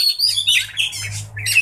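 A kacer (magpie robin) chirps close by while being sunned, giving a quick series of bright, sharp tweets and whistled notes over a faint low hum.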